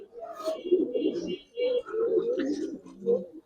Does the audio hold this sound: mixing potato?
no